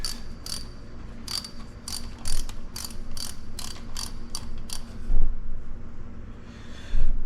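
Ratchet socket wrench with a 1/2-inch socket removing water pump bolts on a Jeep TJ Wrangler 4.0, a close, rapid series of about a dozen metallic clicks, then quieter handling noises.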